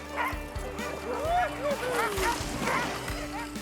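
Sled dogs at a winter outfitter in Quebec bark, yip and whimper excitedly and without pause, several animals close by, with a person talking over the noise.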